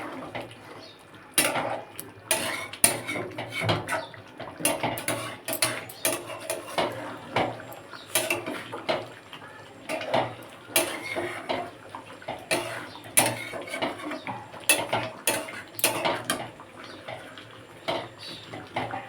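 Chicken rezala curry with cashew and poppy seed paste being stirred in a pot, a spoon scraping and knocking against the metal in an irregular, steady rhythm, close and alone without talk.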